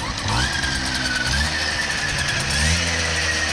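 A Tomos moped's small two-stroke engine runs steadily nearby, a buzzing idle with a slight rise in revs partway through and no talking.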